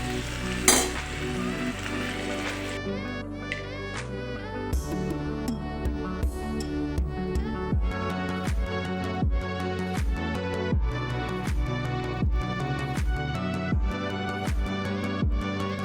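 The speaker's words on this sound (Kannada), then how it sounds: "ತುಂಬ ಚಿಕ್ಕ ಉರಿಯಲ್ಲಿ ನಾನು ಇದನ್ನು ಬೇಯಿಸ್ಕೊತಾ ಇದ್ದೀನಿ" Cherry tomatoes for pickle cooking in a pan over a low flame, a continuous soft sizzle broken by regular scraping and stirring strokes and a few light metal clinks.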